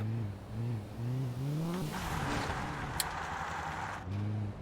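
A rally car engine in Colin McRae Rally 04 revs up through stepped gear changes, then surges into a rushing, gritty burst with a sharp knock before the revving engine returns, loud and up close.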